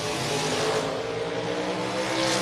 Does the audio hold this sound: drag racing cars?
yes